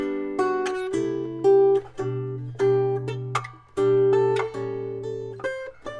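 Unplugged Takamine PTS015 acoustic guitar with its pickup off, playing a short run of picked and strummed notes and chords with a thin, twangy, banjo-like tone, heard close and alone.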